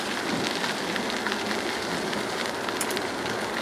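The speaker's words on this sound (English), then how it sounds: "It's a little bit rainy, but not bad." Steady rain falls on a wooded canal-side bike trail, a dense, even hiss of drops that stays constant throughout, close and moderately loud, with no voices.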